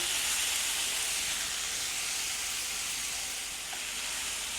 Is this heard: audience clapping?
no